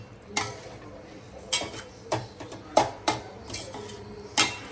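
Prawns go into a home pan with drumstick pods and potatoes, giving a run of sharp metallic spoon-on-pan clanks and scrapes at an uneven rhythm, close and fairly loud, with a low kitchen hum underneath.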